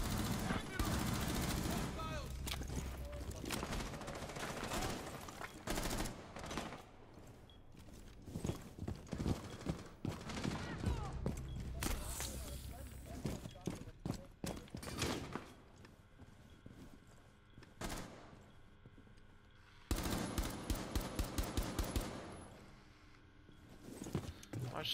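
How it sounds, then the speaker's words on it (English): Gunfire in Rainbow Six Siege rings out in scattered bursts and single cracks with footsteps between them, fairly faint overall, while players talk at times. "I'm being shot at."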